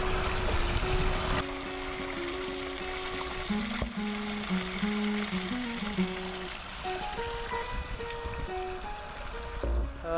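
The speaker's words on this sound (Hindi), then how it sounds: "अचानक पानी की आवाज़ है तो देखा पानी वहाँ ज़मीन के नीचे गायब हो रहा है" A stream of water flows along a trekking path and drains away underground, giving a steady, close rushing wash that runs the whole time, with a brief bump of louder noise near the end.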